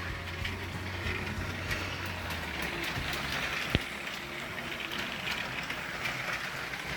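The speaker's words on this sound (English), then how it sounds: "Got two of my trains running." Lego toy trains, including a cargo train, rumble and click along their track in a steady, faint rattle, with a single sharp click partway through.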